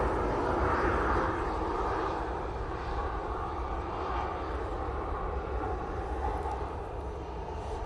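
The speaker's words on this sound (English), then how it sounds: "This Ryanair just taking a left down Victor Bravo." A Ryanair jet taxis at Manchester Airport, its engines giving a steady, loud roaring whine that swells slightly early on and then holds a broad, even rumble, heard without talk.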